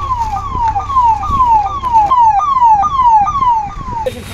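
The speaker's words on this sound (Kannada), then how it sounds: "ಆಂಬ್ಯುಲೆನ್ಸ್ ಹೊರಟಿತ್ತು" An ambulance siren wails loud and near at a canal-side rescue scene in a village, its falling tone repeating in quick regular sweeps for several seconds before it cuts off.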